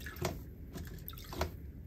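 Faint wet squelching and a couple of soft drips as water is pressed out of freshly dyed wool wrapped in a towel, with a quiet background hiss.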